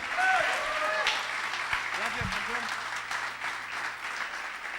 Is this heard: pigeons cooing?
no